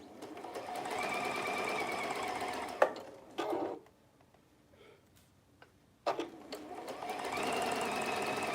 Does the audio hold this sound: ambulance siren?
no